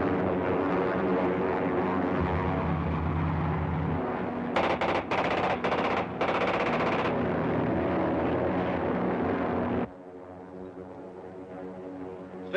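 Rapid machine gun fire rattles in loud bursts over a droning aircraft engine in an old Dick Tracy film serial set high in the stratosphere, the gunfire cutting out near the end while the engine hum continues.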